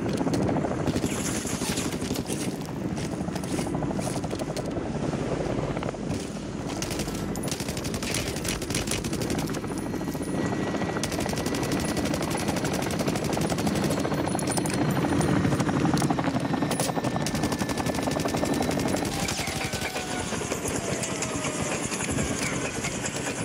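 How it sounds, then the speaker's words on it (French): In a video game, a helicopter's rotor drones continuously while rapid machine-gun bursts crackle over it, loud and dense through most of the stretch, with faint tones underneath. "Helico"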